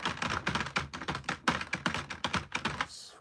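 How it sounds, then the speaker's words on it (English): Rapid, continuous typing on an old clicky computer keyboard produces dense, crisp clacks close up, with a brief pause near the end. "I do like clicker keyboards though."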